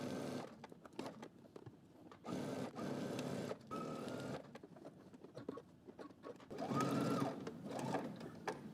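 A sewing machine stitches coat sleeves in short bursts of fast, steady mechanical whirring, separated by brief pauses, heard close and alone.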